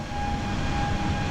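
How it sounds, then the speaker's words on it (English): Airliner engine in Microsoft Flight Simulator settling into a steady cruise drone, a continuous broad rumble with a thin sustained tone, heard alone and moderately loud throughout. "you can hear the engine settling down"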